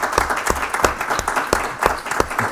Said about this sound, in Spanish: Sí, pero primero un aplauso.